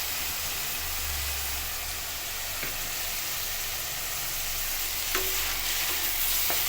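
Mint leaves are stirred into food frying in a pan, giving a loud, constant sizzle with an occasional soft scrape of the spoon.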